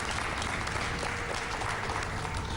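Hospital doctors in Ahmedabad applaud as a recovered coronavirus patient is discharged after 33 days. The clapping from the group is dense and continuous, fairly distant and even, and no one speaks.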